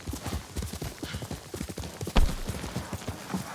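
Horse hooves clip-clop at a steady trotting rhythm in Ghost of Tsushima, close and continuous, with a sharper thump partway through and a brief whinny near the end.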